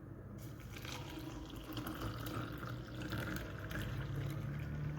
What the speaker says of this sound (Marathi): आणि हे पाणी मी टाकेल याच्यामध्ये